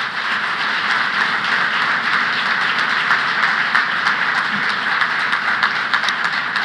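Sustained audience applause at a government Secretary's awards ceremony, a dense, steady clatter of many hands clapping at an even level throughout with no voices over it.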